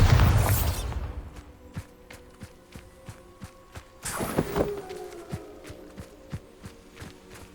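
A Bombarda spell blasts in Hogwarts Legacy: a loud booming burst at the start, then a second rumbling impact midway, amid a steady run of footstep-like thuds.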